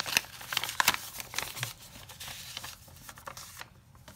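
Paper crinkling and tearing as a greeting card envelope sealed with washi tape is opened, a close, busy rustle with short rips and no talking.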